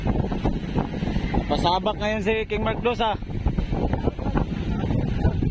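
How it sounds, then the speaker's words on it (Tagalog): Strong wind buffeting the microphone on a small boat heading out on rough seas, a continuous roaring gust noise with someone speaking over it midway. "Maalon ngayon, mahangin."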